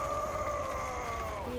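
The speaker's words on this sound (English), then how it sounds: "That what you're hearing is going to be the battle cry." A medieval battle cry from the video game Chivalry: Medieval Warfare, a sustained howling vocal tone held steadily for over a second, dropping slightly in pitch at the end, moderately loud against a low background rumble.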